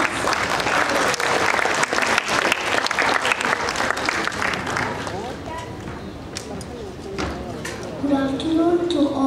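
At a school graduation day, a large audience claps loudly for the parents in a dense burst that gradually thins out toward the end, while a speaker's voice follows over the fading applause.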